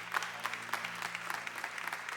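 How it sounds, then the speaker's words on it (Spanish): A church congregation applauds steadily at the close of a Spanish-language service, a dense wash of many hands clapping at moderate distance, with no voices standing out. "Un aplauso a Cristo, amén."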